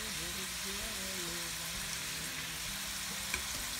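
Shrimp for shrimp scampi sizzle steadily in a pan, a continuous close frying hiss with faint tonal sounds underneath and a small clink near the end.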